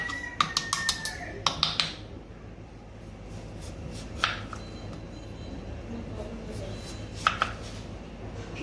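A knife cuts potatoes into french fry strips, giving a quick run of light chopping taps at first and then only occasional single cuts under steady talking.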